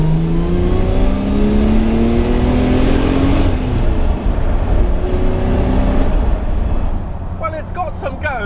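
A Jaguar V12 engine with a manual gearbox conversion revs hard through rising gears, its roar climbing and dropping, with a person talking over the noise near the end.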